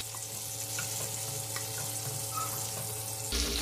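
Chopped tomatoes (jitomate) fry in oil for a peanut and tomato salsa, giving a steady close hiss and crackle that continues throughout and ends in a brief clatter.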